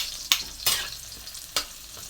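Garlic frying in a pan while being stirred, with a steady sizzle and three or four sharp scrapes of the spoon against the pan, close and fairly quiet.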